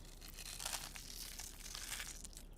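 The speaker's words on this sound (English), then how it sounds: "Need a crunch of salt." Salt crunched by hand over raw food in a home kitchen, a dry gritty crushing and crackling that runs steadily and close for a few seconds with no talk.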